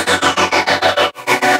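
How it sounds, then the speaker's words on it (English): Lead Magnetron synth lead patch from the Nexus plugin, used in an electronic remix of a Billboard song, playing a bright buzzy run of short rhythmic notes in quick even pulses, with one longer held note near the end. "this is called Lead Magnetron from Nexus"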